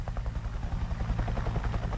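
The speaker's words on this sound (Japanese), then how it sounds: "で、ヘリコプターが一番近いところまで待ちます" Helicopter in the battle royale video game Knives Out, a steady rapid rotor thump with a low engine drone, close and continuous throughout.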